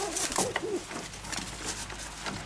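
Domestic pigeons cooing in a loft, including a paired grey hen, soft low rolling coos repeated a few times close by, with faint background rustle.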